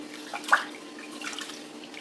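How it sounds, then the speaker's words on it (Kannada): Rice being washed in water for idli batter, with soft splashing and swirling close by, a brief louder slosh near the start, then gentle trickling. "ಈಗ ಅಕ್ಕಿನ ಚೆನ್ನಾಗಿ ತೊಳೆದಬೇಕು ಒಂದೆರಡು ಸಲ ತೊಳೆದ್ರೆ ಒಳ್ಳೆಯದು"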